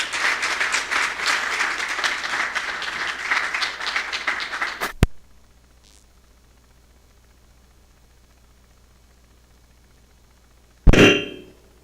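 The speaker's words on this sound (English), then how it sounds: "Now let that round of applause be resounding, please" An audience at an engineering institute's inaugural lecture claps loudly for about five seconds before it cuts to near silence. A second short burst of noise comes near the end.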